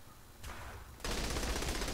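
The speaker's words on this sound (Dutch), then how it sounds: "En nou gaan we schieten." Gunfire in the video game Saints Row The Third: a short burst of shots starts, then a louder, denser volley of rapid fire takes over and keeps going to the end.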